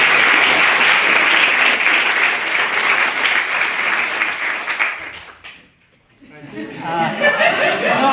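A debate audience applauds to welcome a proposition speaker, loud dense clapping that fades out near the end, briefly drops to near silence, then returns as crowd chatter and laughter.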